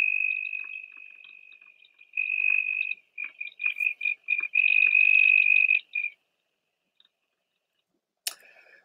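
A southern toad gives a steady, high-pitched trill, first as one long unbroken run, then in a string of short, loud bursts. It is close and alone, and a brief click follows near the end.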